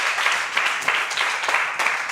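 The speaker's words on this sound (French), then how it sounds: "nous allons tous la recevoir, les enfants, avec des acclamations nourries" Children in a group applaud and cheer, a dense, loud, continuous wash of clapping with excited voices mixed in, filling the whole stretch.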